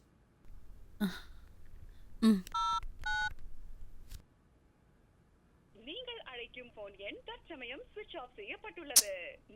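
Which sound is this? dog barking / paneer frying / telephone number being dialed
telephone number being dialed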